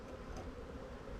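Honeybees buzz steadily around an open hive during a Demaree hive manipulation, a dense, continuous insect drone at moderate distance with no voices over it.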